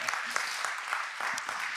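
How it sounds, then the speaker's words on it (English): A conference audience applauds steadily, with dense overlapping claps filling the moment. "I would like to have a big applause for them."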